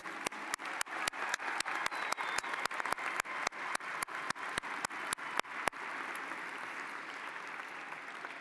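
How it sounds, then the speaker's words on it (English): Graduation crowd at a Wright State University spring commencement claps for the readers of graduate names: sharp, rhythmic close claps in a quick steady beat, then merging into a broad, sustained wash of audience applause. "Please join me in a loud round of applause."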